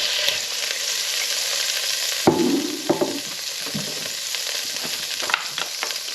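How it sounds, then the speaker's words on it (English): Diced lamb browns in a hot pan, a steady sizzle interrupted by the sharp burst of meat hitting the oil and a few stirring scrapes, close and fairly loud. "I'm just going to brown off the diced lamb as well."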